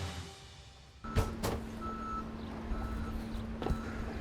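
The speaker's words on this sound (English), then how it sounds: "So this is a front end load truck." A front-end-load garbage truck reverses, its backup alarm giving a few sharp, evenly spaced beeps over a steady engine drone at moderate distance.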